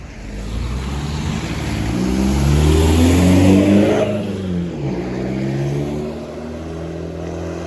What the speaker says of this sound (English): bus driver just drove past me